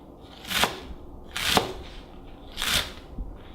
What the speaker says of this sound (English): I already cut off the top of these green onions. So let's just cut it into small sizes.